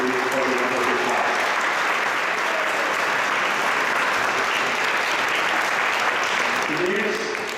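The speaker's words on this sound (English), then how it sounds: "Please give a big round of applause for Rubanuga Prabhuji for the wonderful class." Sustained audience applause after a devotional class at an ISKCON temple in Toronto, a full, even wash of clapping from a gathered crowd lasting several seconds, with a voice faintly heard under it at the start and end.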